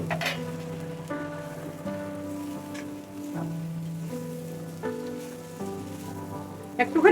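Moringa drumsticks fry in a salted, cooked-down spice paste in a pan, giving a steady, close sizzling hiss with soft tonal music underneath.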